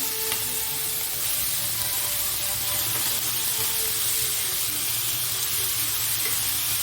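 Chopped tomatoes hit a hot pan for a shahi paneer masala and fry with a continuous, fairly loud sizzle and crackle, with occasional stirring sounds and no talking.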